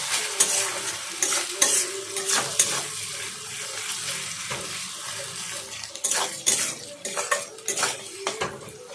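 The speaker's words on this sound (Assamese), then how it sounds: "গোল্ডেন ব্ৰাউন হোৱালৈকে এতিয়া ভাজিম পিঁয়াজখিনি" Onions frying in a pan for a Rohu fish curry, stirred with a utensil that scrapes and clinks against the metal in repeated strokes over a soft steady sizzle, close and with no talk.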